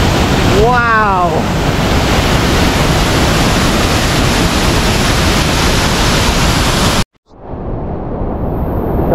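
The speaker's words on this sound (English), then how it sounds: "I'm right underneath the waterfall now." Jembong waterfall in Bali heard from close up: a loud, steady roar of falling water that cuts off abruptly near the end, then returns more quietly.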